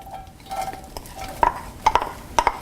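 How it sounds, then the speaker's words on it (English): Chopped red onion fries in oil with a soft sizzle, with a few sharp clicks and scrapes of a utensil stirring in the pan, fairly close and steady. "And what I want to hear is it begin to sizzle."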